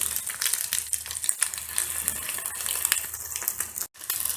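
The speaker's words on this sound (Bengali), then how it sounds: "চিকেনগুলো ফ্রাই হয়ে গেছে।" Chicken pieces fry in hot oil, a steady bright sizzle and crackle that runs throughout, close and fairly loud, with a brief dropout near the end.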